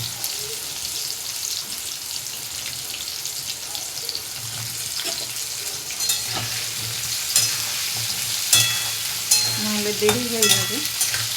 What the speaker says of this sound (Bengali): গাজর আর পটলটা একবারে দিয়েই ভেজে নেব